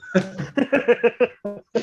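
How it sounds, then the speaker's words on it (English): A person coughs in a rapid series of about eight short, harsh bursts, close and fairly loud, followed by two more after a brief pause, with no speech. "Excuse me, sorry, I had a cough."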